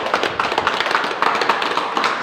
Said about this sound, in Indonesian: Tepuk tangan dulu buat Tuhan kita.